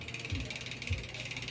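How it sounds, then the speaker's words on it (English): A bicycle's rear cassette freewheel ticks with a fast, steady ratcheting click while coasting, close and moderately loud, with no talking. "all you should hear is the cassette make the noise that it usually makes"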